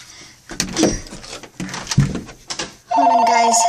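A telephone rings indoors near a closet, one loud electronic ring starting partway through, after shuffling and rustling noises.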